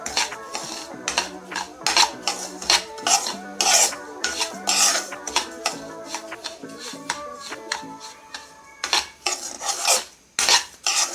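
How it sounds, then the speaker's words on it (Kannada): Semolina roasting in ghee over a low flame, stirred steadily with a metal spoon that scrapes and clinks against the pan in quick, irregular strokes, close and fairly loud throughout. "ಇದನ್ನ ಇದೇ ರೀತಿ ಲೋ ಫ್ಲೇಮಲ್ಲೇ ತುಪ್ಪದಲ್ಲೇ ಹುರ್ಕೋಬೇಕು"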